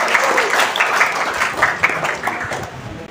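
Audience applause at an Indonesian gathering, a room full of people clapping together, close and lively, with a steady burst that holds for a few seconds.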